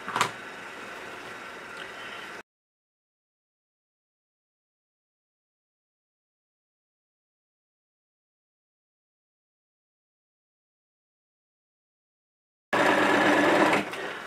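Sewing machine stitching a denim tote bag, running in two steady bursts split by a long silent gap, close and clear.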